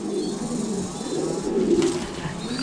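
A yellow pigeon with pox near its eye coos in a loft, soft, low, repeated murmuring close by over steady background noise.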